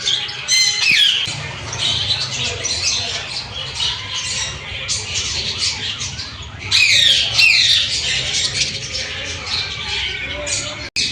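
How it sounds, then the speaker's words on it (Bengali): Many caged birds at a small zoo chirp and squawk in a busy, overlapping chorus, with sharp shrill calls bursting out now and then over a constant chatter. "এই যে কিচিরমিচির আওয়াজটা দারুণ"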